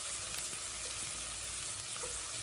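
Crushed ginger, green chilli and garlic sautéing in a pan, a dense continuous sizzle and hiss, close and even, with no talking.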